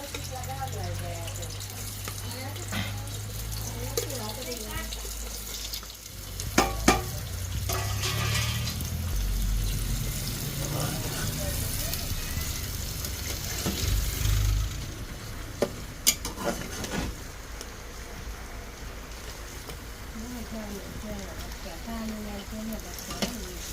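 Onion hisses and crackles in oil inside a pressure cooker, with stirring and a broad wash of noise, and a voice talks at times over the frying.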